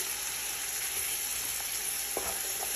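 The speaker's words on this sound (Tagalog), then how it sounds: "At ngayon, i-add ko na itong chicken. Kailangan lang natin yan siyang balik-balik" Chicken fries in a pan with a steady, dense sizzle that fills the whole clip, broken by a few faint scrapes and taps as it is stirred.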